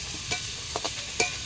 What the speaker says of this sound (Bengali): দেবাদা ভালো করে ভেজে নেবে